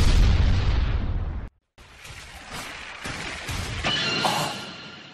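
An anime explosion in a French-dubbed Naruto Shippuden episode: a loud, booming blast cuts to a moment of silence, then rumbling crashes and debris-like bursts follow, with no talk.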